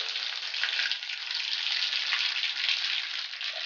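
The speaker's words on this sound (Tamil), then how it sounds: "இப்போ கடுகு உளுத்தம்பருப்பு போட்டுருக்க தாளிக்கு அதை போட்டுடலாம்." Mustard seeds and urad dal sizzling in hot oil for a tomato pickle tempering, a steady bright crackling hiss with small pops, close and continuous, with no talking.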